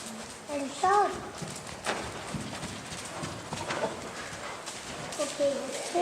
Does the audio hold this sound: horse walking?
yes